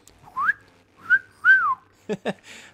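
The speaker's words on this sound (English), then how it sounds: "that was definitely me trying to whistle and not really succeeding because my mouth's dried out now" A person with a dry mouth tries to whistle, producing three breathy, wavering whistled notes close to the mic, followed by a couple of short voiced breaths or mutters.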